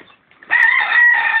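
A large farm rooster lets out one loud, close crow that swells quickly after a brief quiet moment and holds strong to the end.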